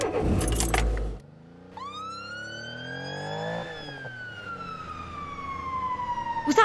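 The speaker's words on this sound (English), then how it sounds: "Was that a fire truck?" A fire truck siren wails close by, rising sharply then sweeping down in a long falling tone as it passes, preceded by a short burst of clattering noise.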